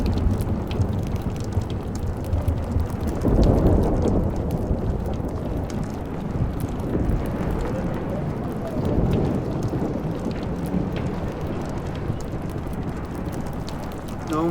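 A thunderstorm in the Life is Strange video game pours loud, constant rain, while deep rumbles of thunder swell several times beneath it.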